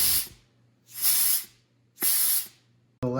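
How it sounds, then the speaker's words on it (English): Compressed air hisses through a hollow bolt on a 4L80E transmission in three sharp, loud bursts of roughly half a second each, evenly spaced, with a brief start of another at the end. "we can test this one now by using compressed air on that hollow bolt"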